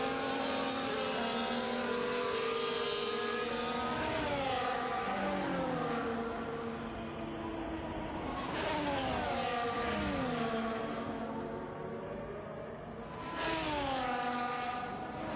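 A Ferrari Formula 1 car in a racing game, its engine screaming high and climbing through repeated upshifts, then dropping as it brakes and pulling away again at a moderate, steady level.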